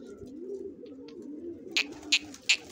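Pigeons coo softly in a low, continuous murmur, with three brief sharper chirps or flutters standing out near the end; no one speaks.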